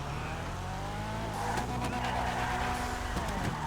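A tuned Annis Hardy, the GTA 5 version of a Nissan Laurel C33, drifts with loud, sustained tire squeal over a steady engine drone that grows more intense midway, with no talking.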